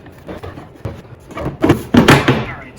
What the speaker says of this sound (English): that's the sound of the studs making their way through into the firewall.